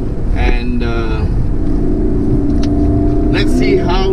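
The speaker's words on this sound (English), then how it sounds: "Listen to that V8 motor." A Lexus LC500 Convertible's powerful V8 engine revs and roars up close on a hill climb, deep and throaty, with someone talking over it and some wind buffeting.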